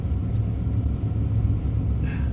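An oil-burning car idles in frigid winter cold with a minus-25 wind chill, giving a steady, close, low rumble with no talking.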